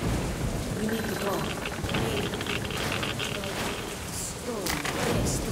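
A thunderstorm rages in the video game Metro: Last Light, with steady, loud, hissing rain and low rolling thunder rumbling underneath throughout.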